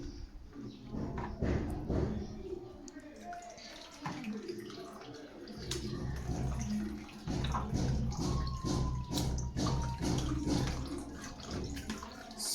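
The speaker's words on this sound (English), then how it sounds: "So I have added another water inside the chaps, so I have to make sure I strain again." Groundnut mixture strained with water for a white peanut sauce, giving steady wet trickling and splashing throughout, with brief clinks and handling noises close by.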